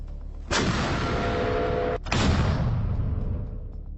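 A 240mm self-propelled mortar fires high explosive rounds: two heavy, booming blasts about a second and a half apart, each followed by a long rumbling tail that slowly fades.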